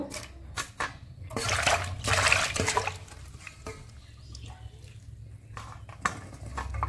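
Water splashing and running in a kitchen while bitter gourds are washed, with uneven sloshes, drips and light clatters of a bowl, moderately close.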